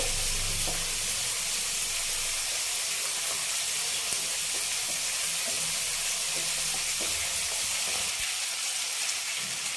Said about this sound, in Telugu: ఇది పచ్చి వాసన పోయిందా వేయించుకున్నాం అండి.